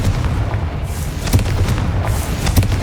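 Confringo spell explosions in the video game Hogwarts Legacy, a heavy rumbling roar with several sharp booms and impacts layered over low game noise.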